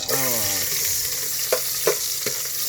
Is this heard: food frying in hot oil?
yes